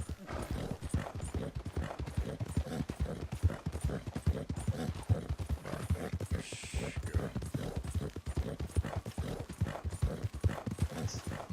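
Horse hooves clip-clop in the video game Red Dead Redemption 2, a steady, close, rhythmic trot that continues evenly throughout.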